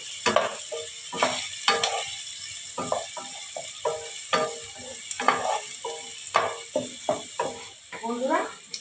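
Finely chopped onions fry in a pan for restaurant-style chicken maharani, a steady sizzle broken by repeated clattering stirring strokes close by.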